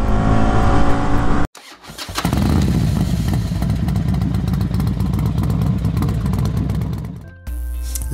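CF Moto 450 SR sport motorcycle engine, loud and close, with a brief cut near the start, then a sustained, throaty rising rev that holds before dropping to a lower note.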